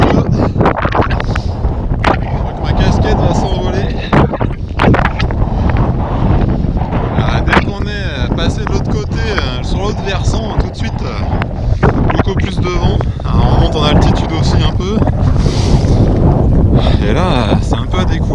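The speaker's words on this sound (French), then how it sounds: "du coup on se prend tout le vent" Strong wind roars and buffets the microphone without a break through a 120 km cycling race in mountain cirques, loud and gusty, with talking mixed in.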